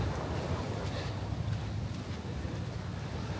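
Steady, loud wind buffets the microphone outdoors in a coastal Thai town, a continuous low rumbling roar with no other distinct sounds.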